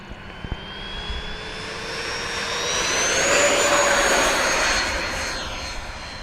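A Freewing F-14 Tomcat RC jet takes off, its electric ducted-fan whine rising in pitch and swelling loud as it passes, then easing off as it climbs away, with no talking over it.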